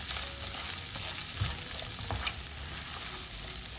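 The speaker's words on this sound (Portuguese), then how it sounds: "Agora nós vamos colocar 1 linguiça calabresa em quadradinhos" Cubed calabresa sausage fries in a pan, giving a steady, close sizzle and crackle with a few soft stirring scrapes and no talking.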